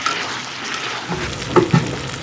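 Chicken and fried potato chunks are stirred and browned in a pan for a chicken curry. A soft steady sizzle runs throughout, with a couple of louder spoon scrapes near the end.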